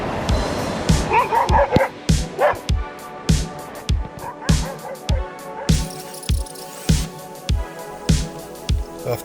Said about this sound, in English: After being chased by a local dog, it was time to enjoy the road.